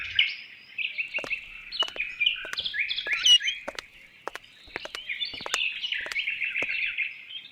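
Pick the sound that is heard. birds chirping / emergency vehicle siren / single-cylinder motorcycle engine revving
birds chirping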